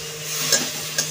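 Fish roe curry being stirred and sautéed in a pan, a steady soft sizzle with two quick scraping strokes of the spoon, close and fairly loud, with no voices.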